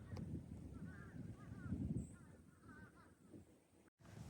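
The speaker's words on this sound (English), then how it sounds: "That's hundreds and hundreds of fish crows." A flock of hundreds of fish crows calls together in the distance by a river, a faint chorus of nasal caws over low wind rumble, continuous and somewhat muffled.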